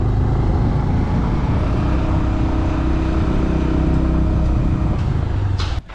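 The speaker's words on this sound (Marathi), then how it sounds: "गाडी इथंच पार्क करूया आपण." Car engine rumbling steadily as the vehicle drives up to a hilltop temple and parks, a loud, continuous low drone with road noise that fades at the very end.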